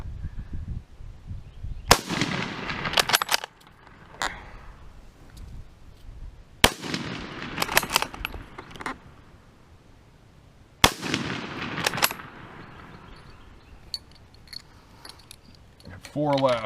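Three loud, sharp rifle shots from an M98/29 Persian Mauser crack out several seconds apart, each followed by a short burst of bolt clatter and rustling, outdoors and close.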